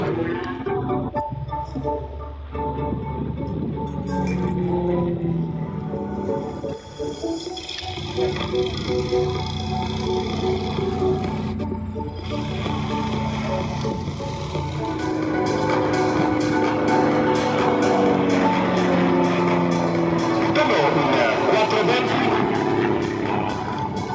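A single aerobatic airplane at an Italian aeroclub air show goes to full throttle, its droning engine swelling louder and steadier toward the end, with a voice talking over it.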